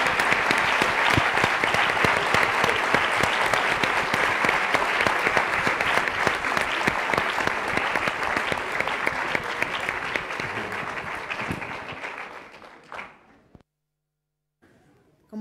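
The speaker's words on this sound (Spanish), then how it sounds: "vamos a terminar esta conversación tributándole un gran aplauso a Jorge Edwards." A university audience at a ceremony honouring writer Jorge Edwards breaks into sustained, dense applause lasting about twelve seconds, then it fades quickly to near silence.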